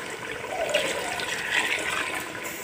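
Water poured into meat being cooked in a pot, a soft splashing, gurgling pour running steadily for a few seconds, fairly close with no talk over it.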